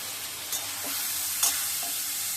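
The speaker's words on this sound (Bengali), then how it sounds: "তারপরে তেলে দিয়ে দিলাম তেজপাতা" Bay leaves crackle and sizzle in hot oil, a steady bright hiss with a couple of brief pops and stirring scrapes, close and alone.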